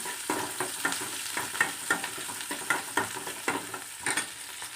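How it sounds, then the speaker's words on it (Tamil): Onions and curry leaves sautéing in a pan with fennel seeds for a muchaka curry, a steady sizzle broken by repeated scraping stirs of a spoon at an even rhythm, close and alone with no talk. "வெங்காயத்தையும் கருவேப்பிலையும் போட்டுக்கலாம். நல்லா வதக்கிக்கலாம்."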